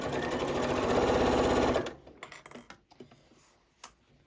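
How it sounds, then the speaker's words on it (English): A Janome 8200 QCP sewing machine stitches fabric for a bowl cozy in a fast, steady run that stops after about two seconds, followed by soft clicks and handling sounds as the presser foot is raised and the work is turned. "raise my presser foot, rotate it just a little bit, and continue stitching"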